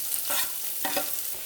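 Onions going into hot oil and stirred in a pan for chutney, a steady sizzle with a couple of louder scraping stirs, no one speaking.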